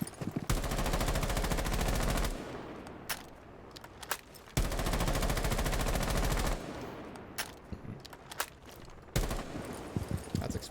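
Automatic gunfire in a first-person shooter, fired in two long sustained bursts of rapid rounds, loud and close, each followed by a few scattered single shots and quieter gaps.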